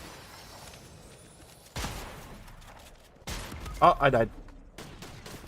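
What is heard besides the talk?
shotgun shots in a video game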